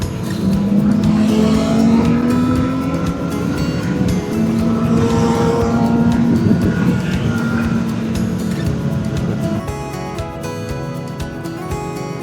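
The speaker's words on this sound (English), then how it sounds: "I've got some faster boys behind us. They're on sports bikes." Sports motorcycles roar past on a road in Spain, heard from another bike, a Yamaha Fazer 600, with strong engine drone and rising and falling revs over steady wind rush, loud and close throughout.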